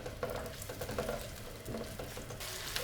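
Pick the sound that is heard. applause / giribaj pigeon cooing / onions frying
onions frying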